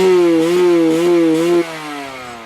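A motorcycle engine with a faulty Euro 4 carburetor solenoid valve drones loudly and close, its pitch wavering up and down unevenly before dropping abruptly to a lower, steadier idle.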